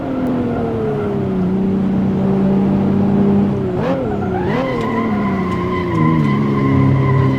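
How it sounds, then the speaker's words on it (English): Tires squeal in the PC racing simulator Assetto Corsa as a car corners, the engine droning loudly while the squeal bends up and down in pitch, with a shift in engine note partway through; no one speaks. "listen to the tires and see how they're reacting to turn."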